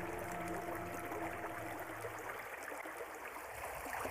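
Water runs in a thin stream over a photographic plate set in a river for cameraless photography, a steady, close trickling flow with faint low tones beneath and no speech.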